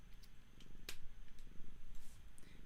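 A pet cat purrs close by, a soft rhythmic rumbling pulse with faint clicks and rustles around it.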